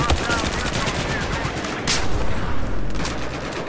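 Dense, continuous automatic gunfire from Battlefield 4 on the Siege of Shanghai map roars loud and close for the whole stretch, with faint player voices buried underneath.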